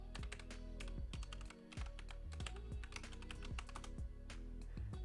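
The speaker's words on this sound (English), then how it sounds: "then I must input my administration password" Password typed on a computer keyboard, a quick, irregular run of close, crisp key clicks and taps, fairly quiet and with no voices.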